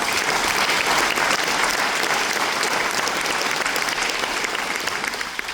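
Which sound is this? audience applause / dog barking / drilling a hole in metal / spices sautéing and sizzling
audience applause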